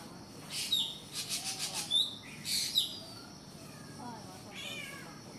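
A black bird mimics a cat's meow with a few short, high, meow-like calls in a rough burst, close by over light outdoor background noise, while a cat is nearby.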